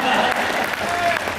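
Audience clapping bursts out at a Hindi comedy poetry laughter night, a brief dense patter of applause with a voice audible over it.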